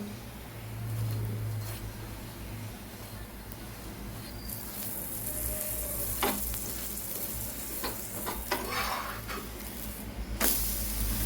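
A paneer paratha fries in butter on a pan, a low steady sizzle with a few sharp clicks and scrapes, quiet and close, with no talking.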